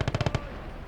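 Rapid burst of about five gunshots in quick succession, fired at a truck in the World War II game Gates of Hell, loud and close, then cut off into a fading low rumble.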